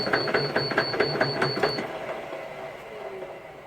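An inverter-driven electric motor on a test setup spins and shakes, making a fast, rhythmic mechanical rattle for about two seconds that then fades to a quieter whir.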